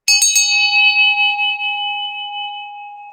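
A small handheld bell is struck a few times in quick succession, then rings on alone with a clear, bright tone that slowly fades away.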